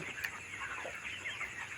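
Chickens cluck and murmur in a poultry shed, a soft continuous chatter of many birds at moderate distance with no talking over it.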